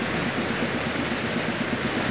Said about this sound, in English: the water runs down here into that impenetrable